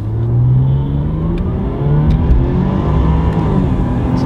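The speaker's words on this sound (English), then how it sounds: "Now we do the acceleration from the standstill." A Jaguar XF AWD sedan with an 8-speed ZF automatic gearbox accelerates hard from a standstill. The engine note climbs steadily and loudly, with smooth rising tones and brief dips at the shifts, and no talk over it.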